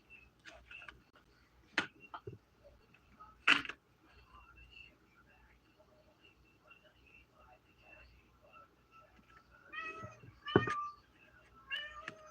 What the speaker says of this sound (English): Oh, he's in the potty. That's why he's meowing.